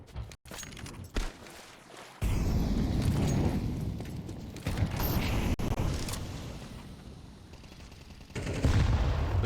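Dense rapid gunfire from a Counter-Strike esports match on the Overpass map, bursts overlapping loudly and almost continuously with sharp cracks and heavier swells, played alone with no talk over it.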